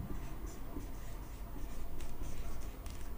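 A marker writing on a board during a chemistry lesson, a soft continuous scratching and squeaking of strokes, close by and steady for several seconds.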